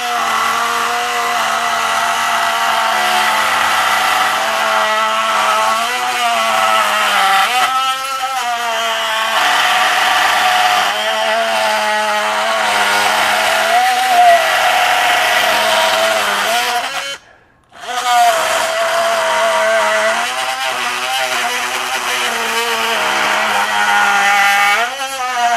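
A Ryobi Gen 2 18V One+ HP oscillating multi tool cuts into wood with a steady, loud buzzing drone that runs nearly the whole time, broken by one brief stop near the end before resuming.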